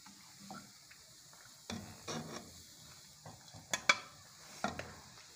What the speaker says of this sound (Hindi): घी जो है हमारा अच्छे से गर्म हो चुका है, अब हम इसमें चावल का आटा डालते जाएंगे